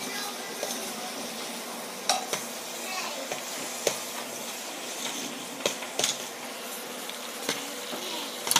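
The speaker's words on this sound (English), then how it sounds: "Let me help stir the eggs in there really well" A spoon stirs beaten eggs into cooked macaroni noodles in a pot during home mac and cheese making, giving a steady wet scraping and sloshing with scattered light metallic clicks against the pot.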